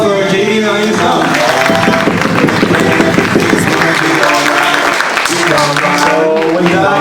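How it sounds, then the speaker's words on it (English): An audience at a Fastathon charity performance event applauds performers with loud, sustained clapping and crowd noise that runs steadily throughout. "can I have a big round of applause for Jadeen and Ali Islam?"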